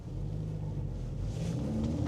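A 2024 VW Golf R with all-wheel drive launching in race mode during a drag race, its engine a steady, close, low rumble that swells slightly as it accelerates.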